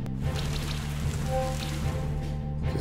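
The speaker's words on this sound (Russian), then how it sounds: "Кислотный дождь." Rain patters and spatters steadily on surfaces during a battle in the video game Monster Sanctuary. The sound is fairly close and continuous, with a brief tonal game cue partway through and no talking.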